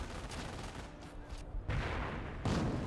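Rumbling bursts of artillery fire in Company of Heroes, a steady wash of distant battle with heavier booming blasts landing in the second half, loud and continuous without talk.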